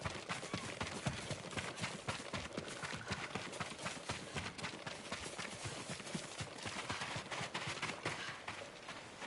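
Busy hoofbeats clatter continuously at a brisk, uneven pace, several horses moving together over a dense noisy bed, in the video game Ghost of Tsushima.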